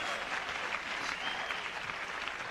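Spectators at a 1993 Superseries squash match in Zurich clap steadily in a dense, sustained round of applause that fills the hall.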